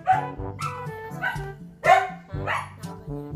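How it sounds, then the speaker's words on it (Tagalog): A dog barks repeatedly at close range in loud, uneven bursts, some sharp yips and some longer howling barks, spread across a few seconds indoors. "Aso!"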